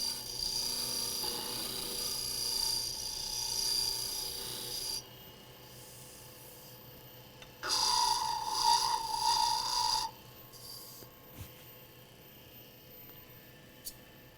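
A spindle roughing gouge cuts wood spinning on a lathe, a close rasping, scraping drone that runs in long stretches, stops, then returns in a louder burst before fading to quiet hum; no one speaks.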